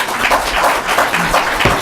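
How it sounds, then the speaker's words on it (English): Steady, loud applause fills a township council meeting in Washington Township, a dense wash of clapping hands with faint voices underneath. "I would like to hear a round of applause about that"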